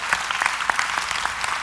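An audience at a sermon breaks into a short burst of brisk, scattered clapping that sounds fairly close, with no speech over it.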